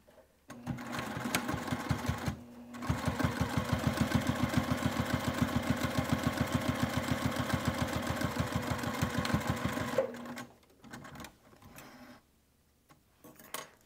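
Sewing machine stitching along the folded edge of a fabric wristlet, a loud steady run of rapid needle strokes lasting about nine seconds after a brief start, then stopping, with no talking.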